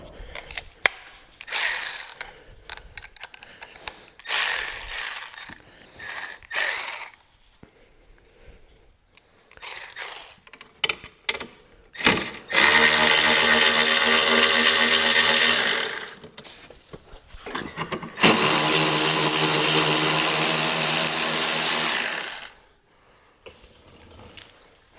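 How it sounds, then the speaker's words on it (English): Battery-powered Milwaukee power ratchet used on a 2008 Polaris IQ 700, with scattered clicks and handling noises, then two long, loud, steady whirring runs of several seconds each, close by. "So we got our Milwaukee power ratchet"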